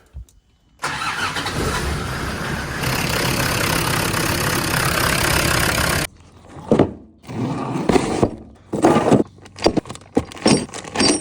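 A digger's engine cranks and catches, then runs with a loud, rough idle for about five seconds before it cuts off. A series of separate knocks and clatters follows close by.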